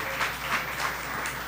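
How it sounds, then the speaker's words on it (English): Steady applause from an audience at a live chef cooking competition event fills the room, a dense continuous patter of clapping. "A round of applause."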